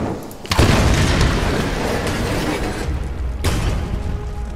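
Explosions in the Tomb Raider video game hit as two loud booming blasts, one early and one later, each followed by a long rumbling roar of debris and crackle that lingers in between.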